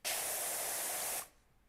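Pressure washer spraying in the video game Power Wash Simulator 2, a loud, steady hissing jet that runs for just over a second and then stops abruptly, leaving faint background noise.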